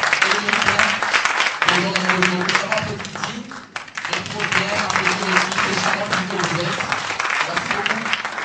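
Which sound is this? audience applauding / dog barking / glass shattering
audience applauding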